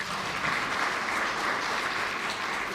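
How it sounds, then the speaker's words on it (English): Sustained applause from an audience at a North West provincial local government gathering, a dense, steady wash of clapping that stays even throughout with no voices over it. "please give them another round of applause"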